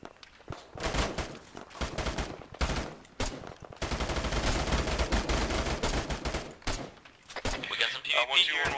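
Gunfire rattles through a military video game battle, with sharp single shots giving way to a long, dense sustained volley, then scattered bursts; voices talk over the shooting.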